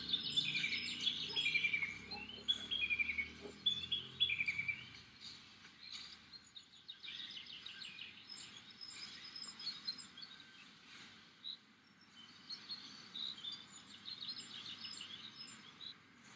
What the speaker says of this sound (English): the birds in the background there